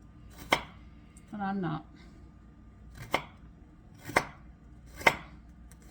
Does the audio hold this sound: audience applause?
no